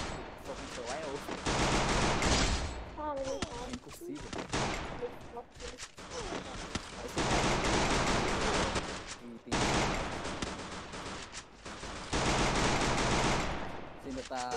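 Video game gunfire comes in long, loud bursts of rapid automatic shots separated by brief pauses, with people talking over it.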